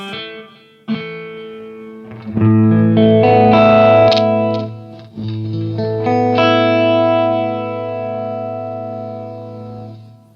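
An electric guitar strums chords through a Bugera G5 Infinium amp and Boss GX-700 chorus effect, notes ringing out and sustaining with a wide, warbling tone; no voices.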